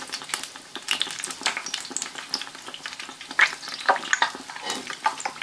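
Torrijas, bread slices soaked and coated in sugar and cinnamon for Holy Week, sizzle and spit steadily in a frying pan, with crisp crackles and pops close up and no talking.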